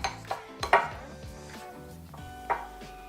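A pastry cutter works cold butter in a bowl, giving several sharp metallic clinks and scrapes against the bowl in an uneven rhythm, close and fairly quiet, with no talking.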